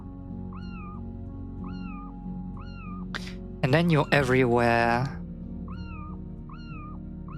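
A cat meows repeatedly at a steady pace, five or so bright rising calls under a continuous background hum. A person's speech breaks in briefly midway.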